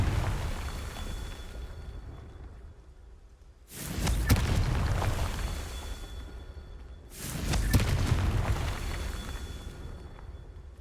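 The Confringo fire spell bursts twice in Hogwarts Legacy, each a loud booming blast with a rushing whoosh that decays over a few seconds, over a low rumbling game ambience.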